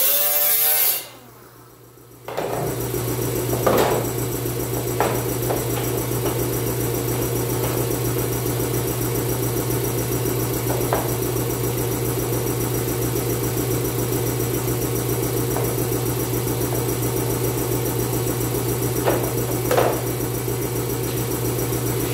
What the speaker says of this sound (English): So I'll play around with this now with the cotton wheel and the 24 grit.